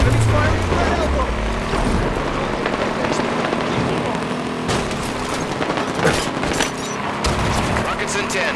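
Sustained gunfire from Halo 5 multiplayer, dense overlapping bursts and rapid automatic shots over a constant loud rumble of in-game action, with a voice speaking at times.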